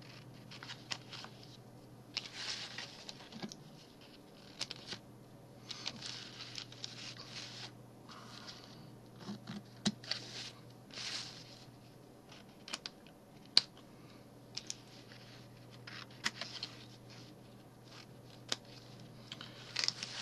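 Scissors snip the corner of a paper bag in a quiet room, a scattered series of faint, crisp cuts and paper rustles spread irregularly over several seconds, with a low steady hum underneath.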